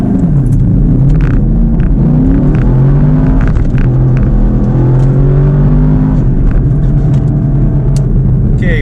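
A Camaro SS 1LE launches from about 2,000 RPM with its tires spinning, a loud, steady engine roar with rising harmonic sweeps as it accelerates, continuous throughout with no talk.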